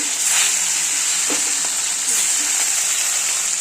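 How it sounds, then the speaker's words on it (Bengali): Gurjali fish pieces fry in hot mustard oil, a bright, steady sizzle up close with a few spitting pops and light scraping, and no talk over it. "মাছটা ভেজে নিতে হবে ভালো করে, কড়া করে ভাজার দরকার নেই, মোটামুটি ভাজলেই হবে"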